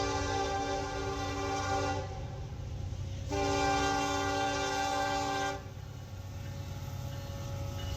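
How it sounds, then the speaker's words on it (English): Freight train led by EMD SD70ACe locomotive 1133, followed by a second locomotive, passing with loud sustained multi-tone horn blasts in two long bursts over a continuous low rumble of rolling cars. "Leading the pack is locomotive 1133, an EMD SD70 Ace, followed by 4588, which is another AC44 C6M."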